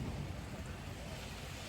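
Steady, dense rain falls in Coorg, a continuous broadband hiss and patter with a low rumble underneath that stays even from start to finish.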